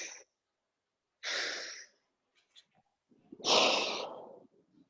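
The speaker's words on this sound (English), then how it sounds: "can you hear my breathing when I'm doing that?" Heavy breathing from a lifter during a weightlifting jerk: a sharp breath, a brief quiet brace, then a longer forceful exhale, close and loud with no talk.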